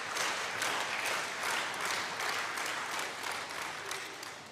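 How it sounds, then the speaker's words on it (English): A crowd at a European table tennis final applauds in a steady, sustained patter of clapping that fades slightly toward the end, with faint talk underneath. "Encouragement for Joshua from the crowd"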